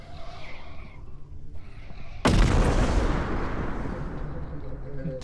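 A sudden loud bomb blast in the Content Warning video game bursts in after a quieter stretch, followed by a long rumbling, crackling decay, with voices faintly present.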